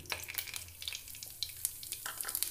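Whole spices, a torn bay leaf and cumin seeds fry in hot oil for a Bengali village chicken curry, a soft close crackle with quick, light stirring clicks and no voices.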